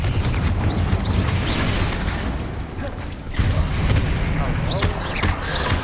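Fire and explosive spell blasts (Incendio, Confringo) in Hogwarts Legacy combat: repeated booming bursts and crackling impacts with mechanical clatter, loud and dense, two heavier hits standing out mid-sequence.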